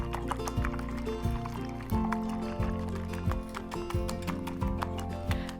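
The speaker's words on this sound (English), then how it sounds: "So I like to do at least 20-30 seconds of good scrambling before I add my eggs to the pan." Eggs are whisked in a bowl for soft scrambled eggs, a quick, even run of clinking strokes with a faint ringing tone from the bowl.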